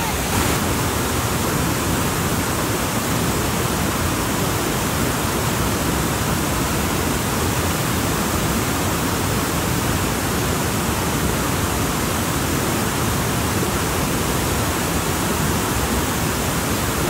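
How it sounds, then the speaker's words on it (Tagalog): Steady, loud rushing water roars continuously, a dense unbroken wash of sound like a strong river current close by, at Matigol Falls. "kusog kaayo ang current sa tubig"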